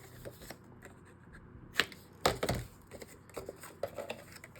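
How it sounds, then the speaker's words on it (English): Scissors snip small corners off a paper panel for a handmade vellum-pocket pyramid album card, a few crisp close cuts with light paper handling between them, no talk. "I will go ahead and cut off these little corners here"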